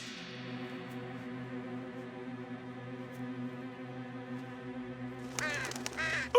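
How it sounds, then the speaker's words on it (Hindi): In a Fireman Sam cartoon, a crow gives a drawn-out, nasal caw that holds steady for several seconds before a burst of other sound cuts in near the end; no speech is heard over it. "अच्छा एक कौवा था।"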